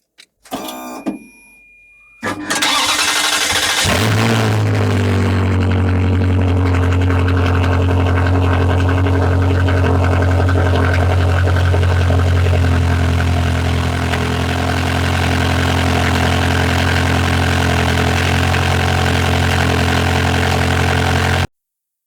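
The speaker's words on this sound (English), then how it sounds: "give it a nice listen for a cold start and hear how great this engine sounds" A Ferrari 360 Spider engine cranks and fires up from a cold start, then settles into a loud, steady idle with a deep rumble that holds for the rest of the clip.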